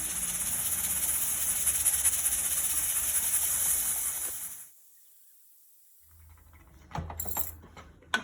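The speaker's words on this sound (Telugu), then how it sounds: "విజిల్స్ స్టార్ట్ అయినాయి." A pressure cooker whistling while Kadaknath chicken curry cooks, giving a loud steady hiss for several seconds that cuts off, followed by quiet and then some clattering.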